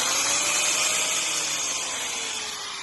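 A Makita angle grinder runs continuously, a loud close high-pitched whine that holds steady and then fades slightly toward the end.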